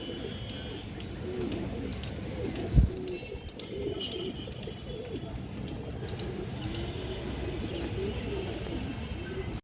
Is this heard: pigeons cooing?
yes